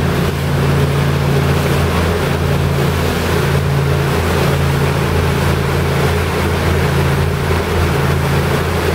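Detroit Diesel engines on a Hatteras 53 boat at 19 knots drone steadily with a deep, even hum, mixed with rushing water and wind, continuous throughout with no voices.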